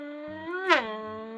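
A trumpet holds a steady buzzing note, then bends sharply upward and back in a quick swoop that imitates a passing race car, short and close with no other sound.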